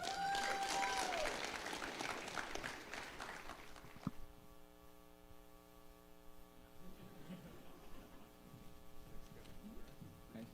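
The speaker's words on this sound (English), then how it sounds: "let's give him a round of applause and get him up here." Audience applause at a 412th FSS town hall, a fairly loud burst of clapping for roughly four seconds that stops abruptly and gives way to a low electrical hum, faint room noise and some scattered talk.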